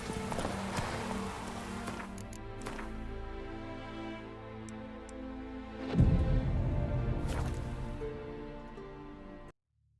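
Roach the horse galloping in The Witcher 3, a steady run of hoofbeats clip-clopping close by through most of the stretch, with a louder thump midway before everything cuts out abruptly near the end.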